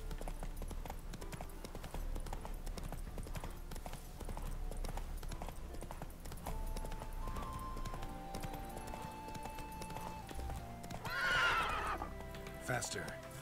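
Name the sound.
horses galloping and neighing in video game The Witcher 3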